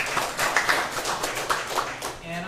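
An audience at a church food-movement panel breaks into brief applause to welcome a speaker, scattered close claps over a couple of seconds with voices murmuring underneath.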